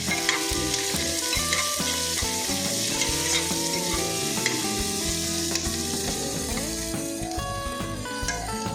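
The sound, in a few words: onion frying in pan for tomato bath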